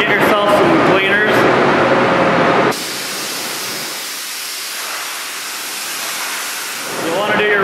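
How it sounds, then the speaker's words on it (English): Compressed air blowing off car parts hung in a paint booth, a loud steady hiss running through the middle, with a person talking before and after. "go ahead and blow them off"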